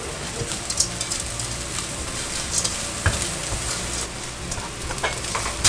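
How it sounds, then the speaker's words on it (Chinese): Red shallot shreds stir-fry in a hot pan, a dense close sizzle broken by scraping and clacks of the spatula throughout, with no voices. "接着炒这个金高黑，红葱丝要放一点下去，"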